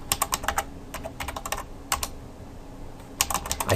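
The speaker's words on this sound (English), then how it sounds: "I can't type and talk at the same time." Bursts of rapid computer keyboard typing, close and clear, in clusters of keystrokes with short pauses between, no voices over them.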